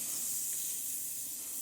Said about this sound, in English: I'm just going to use a little bit of spray olive oil